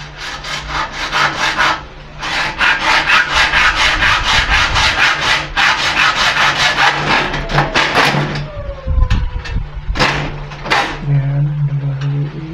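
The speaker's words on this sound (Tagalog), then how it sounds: "Ganun din, lagariin nyo ulit. Lagariin nyo siya ulit." A hand saw cuts through wood for a double-panel screen door, its rhythmic back-and-forth strokes loud and close, running in long steady bursts with brief pauses.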